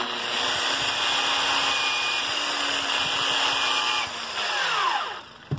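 A power sander spins against sandpaper to clean off dried silicone, a steady high whine and whir that holds for about four seconds, dips, surges briefly, then winds down with a final clunk.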